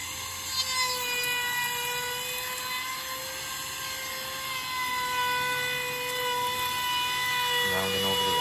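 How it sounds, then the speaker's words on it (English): Power tool trimming a sawmill-lumber deck skirt board to width, a steady high-pitched whining motor with bright tonal harmonics droning continuously and closely throughout. "Trimming the skirt board to width."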